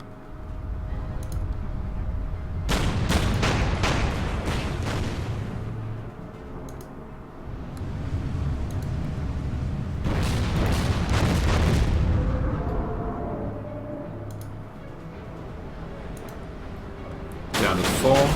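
Artillery and gunfire strike a cruiser at sea in the Order of Battle strategy game, with two long clusters of booming, crackling shots separated by quieter stretches and a final burst at the end.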